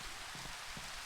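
Steady rain falls in Minecraft, a continuous soft hiss of drops on surfaces with no voices, even and unbroken throughout.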